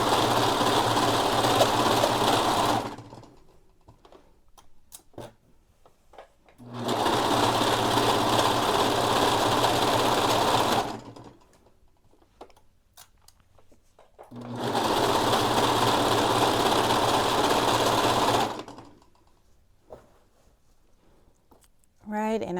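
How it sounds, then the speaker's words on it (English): Sewing machine stitching a straight seam on a shirt, running in three sustained bursts of several seconds each with quiet pauses between, loud and close. "just go ahead and sew straight down"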